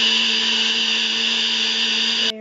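A mixer whirs steadily while blending a homemade ice cream base in a container, a constant loud motor drone that cuts off abruptly at the end.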